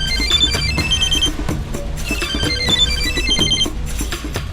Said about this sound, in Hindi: सर आपका फोन।